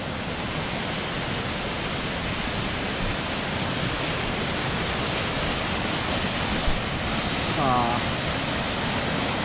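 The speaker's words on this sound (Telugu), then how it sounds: "Welcome to ఖండా falls." Khanda Falls, a waterfall high in the mountains of Sikkim, pours as a steady broadband rush of water with wind buffeting, constant and close throughout.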